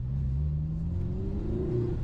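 A Lotus Emira First Edition sports car engine rises in pitch as it accelerates, a low steady growl climbing smoothly over two seconds, close and with no voices.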